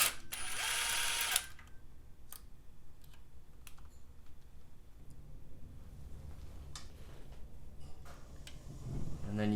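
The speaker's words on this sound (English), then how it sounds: "Loosen this 10 bolt." A ratchet loosens a 10 mm bolt on a Honda CB-series motorcycle engine during a bottom end rebuild, giving several quiet, close clicking bursts with a brief louder rattle near the start.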